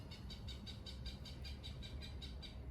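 A rapid series of bright, regular chirping calls repeats steadily, about a dozen in a row, over a low rumbling background.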